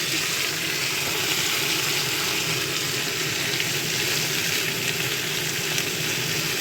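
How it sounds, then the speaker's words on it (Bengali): Steamed amla (Indian gooseberry) goes into hot oil with fried spices for a sweet chutney, a loud dense hiss of frying that stays even and continuous throughout. "এবার যে ভাপানো আমি আমলকিগুলো রেখেছিলাম সেগুলো এই তেলে দিয়ে দেবো, ভাজবো।"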